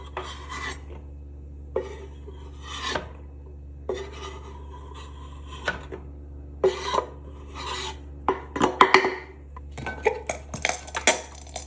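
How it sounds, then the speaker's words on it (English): A nearly empty pepper mill ground over potato salad gives short dry rasping crunches in irregular bursts, close and fairly loud, growing quicker and louder toward the end, with occasional faint clinks and no talk. "whatever I've got left in this pepper mill is what's going in here"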